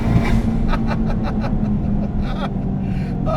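A 300 WHP big turbo Ford Fiesta ST accelerating hard, a loud droning engine note with a steady whine, heard close from inside the car while people chuckle and talk over it.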